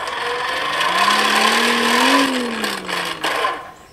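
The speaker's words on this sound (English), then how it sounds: "Make sure my blower's working." A coal forge blower runs up close and loud, its whirring motor tone climbing in pitch, holding, then sagging as it winds down over a few seconds.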